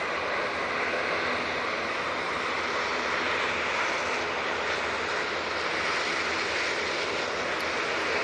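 An ATR turboprop at Manchester Airport runs its engines through power cycles, a loud, steady, broadband roar that holds unbroken and close for the whole stretch, with no voices over it.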